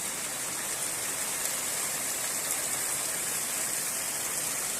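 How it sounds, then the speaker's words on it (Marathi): Rainwater runs and gushes across the ground outdoors during heavy monsoon rain, a dense, steady rushing wash with no breaks. "बाहेर आहेत बघा पाणी कसं पळायला लागलं"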